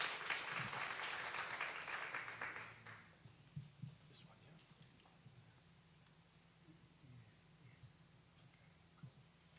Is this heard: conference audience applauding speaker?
yes